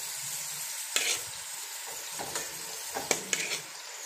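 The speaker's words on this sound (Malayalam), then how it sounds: "വെളുത്തുള്ളി ഉണക്കമീൻ്റെ കൂടെ ഇട്ട് വറുക്കണുണ്ട്" Dried fish frying with garlic in a pan, a soft continuous sizzle broken by a few scraping stirs and light clinks of a utensil against the pan, close and fairly quiet.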